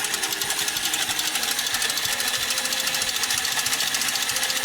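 Adventure Force V-Twin toy minigun, a 2019 model, with its barrel spinning in a steady, continuous mechanical whir and fine rapid clatter, close and fairly loud.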